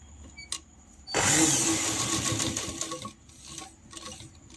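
A sewing machine stitching petticoat fabric runs in one loud, close whirring burst of about two seconds, framed by quiet clicks and handling of the cloth before and after.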